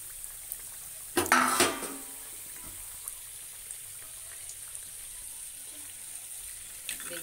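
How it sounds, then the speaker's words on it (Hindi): Samosas fry in hot oil with a steady, close, high hiss, broken early by a short burst of clattering and bubbling, then settling back to a faint sizzle with occasional small ticks and no talking. "इसे हमें सुनहरा होने तक तलना है।"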